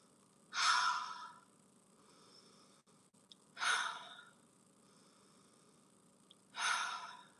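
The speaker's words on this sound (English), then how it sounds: "Take in 3 deep breaths." Three slow, deep breaths come at even intervals during a relaxation exercise, each a close, breathy inhale-exhale swell separated by quiet pauses.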